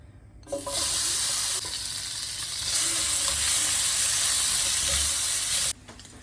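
Goose fat sizzling steadily in a hot pan, a loud, continuous hiss that starts suddenly, swells midway and cuts off near the end, with no talking.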